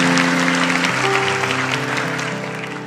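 Church audience applauding during a sermon, a dense steady clatter of clapping that fades slightly toward the end, with sustained tones from music or voices underneath.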